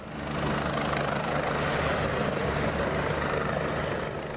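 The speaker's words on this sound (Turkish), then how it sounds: "Mahsur kalan bölge sakinlerine afet bölgelerine gönderilen helikopterler ulaştı." A helicopter sent to a flood disaster area is heard flying, its steady, loud rotor and engine roar constant throughout with no break and no talk.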